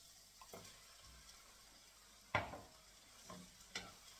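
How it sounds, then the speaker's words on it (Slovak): Half a kilo of chicken livers frying with sautéed onion in a pan gives a faint, quiet sizzle, broken by a few soft stirring knocks and one sharper scrape near the middle. "Zarestujem, kým nebude pečienka hotová."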